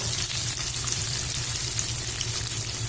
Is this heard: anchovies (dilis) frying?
yes